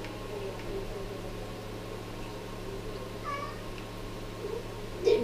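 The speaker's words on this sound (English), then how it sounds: "My dad's kitten Biscuit is next to me right now." A kitten gives a short meow near the end, close by, after a stretch of low steady indoor hum and faint game sounds, with a few soft chirpy noises beforehand.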